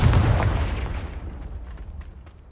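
A Confringo fire spell blast in Hogwarts Legacy, a loud booming burst that opens with a heavy low thump and then decays as a rumbling tail over about two seconds.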